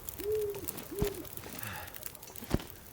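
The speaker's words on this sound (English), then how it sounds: "Sounds like old Mr. Owl is out for the night." Two soft, rounded owl hoots sound at night in The Long Dark video game, set against a quiet ambient wind bed with a couple of sharp clicks.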